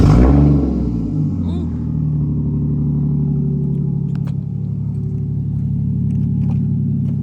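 A Toyota JZX engine starts and settles into a loud, deep idle with a steady throbbing rumble. It is close and dominant, with a faint rev swell and people talking quietly under it.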